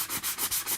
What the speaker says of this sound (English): I'm going to grab my sanding block